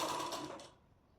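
A short burst of sewing machine stitching along the neckline of a princess-cut deep-neck blouse, quick and fairly close, fading out after under a second.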